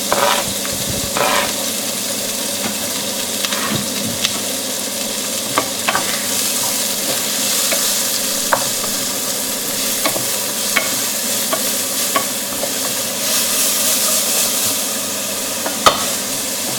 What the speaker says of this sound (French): On remet une lichette d'huile et on va faire revenir l'oignon.